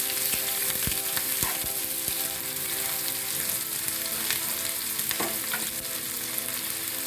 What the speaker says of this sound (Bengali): তেলটা খুব ভালোভাবে গরম হয়ে গেছে কিছুটা পেঁয়াজ কুচু দিয়ে দিলাম